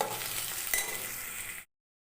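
Loud, steady sizzling of onions frying golden in a hot pan for cauliflower gravy, with a brief stir, then the sound cuts to sudden silence.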